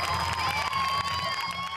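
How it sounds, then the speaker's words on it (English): A big stadium crowd cheers and applauds, with a dense, steady roar of clapping and shouting. Whistles and raised voices run through it at full, close volume from start to finish. "There were cheers and applause"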